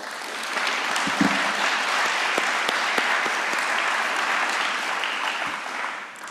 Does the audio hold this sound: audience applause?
yes